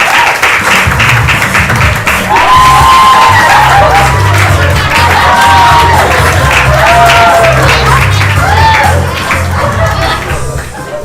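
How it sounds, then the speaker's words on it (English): A crowd applauds and cheers loudly and steadily for the gurus at an evening Guru Poornima celebration, with voices calling out over the clapping. "Let's give them a round of applause."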